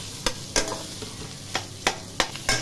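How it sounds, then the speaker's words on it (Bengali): Onions, garlic, ginger and cashews fry in a pan for paneer butter masala under a low steady sizzle, with about seven sharp scraping stirs of a spatula spaced through it and no voices. "পেঁয়াজটা ভাজা হয়ে গেছে"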